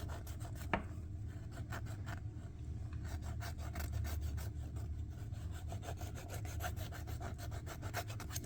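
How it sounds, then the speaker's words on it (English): A 1/16 Panzer III model tank tire spun against a piece of sandpaper held still, making a steady, close, rhythmic rasping scrub with regular strokes and no voices. "now I'm going to take my sandpaper thing and I'm going to hold it still and I'm just going to run the tire around"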